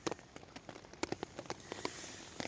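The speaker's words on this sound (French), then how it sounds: "il pleut dehors" Rain falling on a small tent on a cycling trip, heard from inside as scattered, close drops tapping the fabric in an irregular patter over a soft background hiss.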